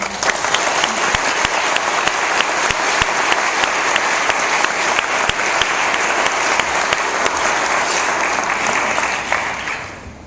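Audience at the 2011 Savannah Book Festival applauding to welcome author Karl Marlantes, a loud, dense, sustained clapping from a full room that holds steady for about ten seconds and then starts to fade, no voices over it.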